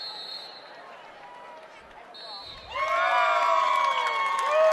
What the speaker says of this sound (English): You can hear from behind us the Baca County contingent here. There's cheering